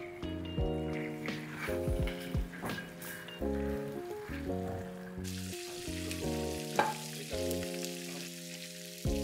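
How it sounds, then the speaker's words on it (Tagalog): Bangus (milkfish) sizzles and fries in a pan, a continuous crackling hiss with intermittent bursts of spattering and a few tonal clinks against the pan, growing brighter in the second half. "I-fry natin ng onte"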